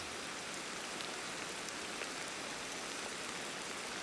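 Rain falling in the Ancestors survival game, a steady dense hiss of raindrops on surfaces, constant and even throughout with no voices.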